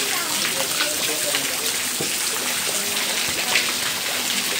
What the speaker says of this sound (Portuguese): Chuva forte hoje aqui, viu?